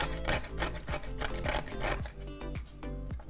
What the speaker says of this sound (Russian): мускатный орех берем и на мелкой вот такой вот терке начинаем его